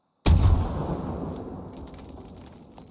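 A grenade blast in the military shooter Squad: one sudden loud boom that rolls out into a long, fading rumble, heard alone with no voices.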